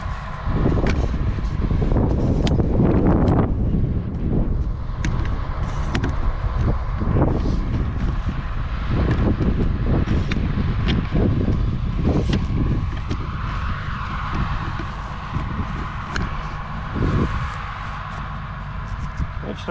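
Strong gusty wind buffets the microphone outdoors by a pond, loud low rumbling blasts that rise and fall continuously, with people talking faintly beneath the noise.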